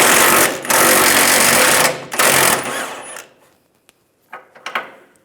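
A power tool with an 18mm socket buzzes loudly in two long bursts while removing a bumper bolt on a 2007-2013 Chevrolet Silverado 1500, then falls quiet before a few short clicks and taps.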